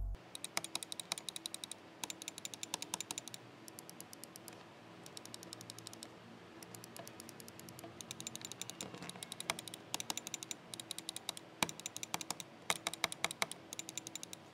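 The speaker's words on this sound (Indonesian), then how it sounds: "Buat yang penasaran gimana respon suara dari switch Logitech Pro X Superlight ini tuh, bisa coba tampilin ya, contoh dari suaranya." Logitech Pro X Superlight gaming mouse switches clicked in rapid bursts, crisp close-up clicks in fast runs separated by short pauses, alone without talk.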